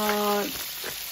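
Onion going into about three spoonfuls of hot oil in a pan: a brief tonal hum at the start, then a soft, continuous sizzle with faint crackles.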